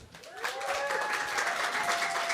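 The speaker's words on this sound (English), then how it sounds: "Give a big applause to Silenoz from Dimmu Borgir." Audience applause for a guest at a live show by the Inferno Festival's official podcast, a dense wash of clapping that swells quickly and holds steady, fairly close and loud, with a faint voice briefly underneath.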